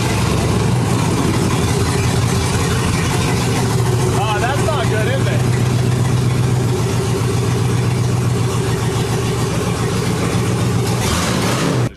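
A restored 1973 Rolls-Royce engine runs at a steady, loud idle after starting, a constant low rumble close up, with a narrator speaking over it.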